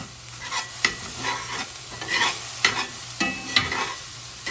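Tofu scramble with fresh turmeric root is stirred in a hot pan, with repeated scraping strokes of a utensil over a continuous gentle sizzle, close and fairly loud, no talking.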